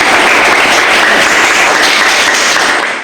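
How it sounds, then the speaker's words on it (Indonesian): A classroom group applauds loudly during a wedding-ceremony role play, with dense, steady clapping lasting about three seconds before it cuts off abruptly. "Beri aplaus pada Pak Sekda."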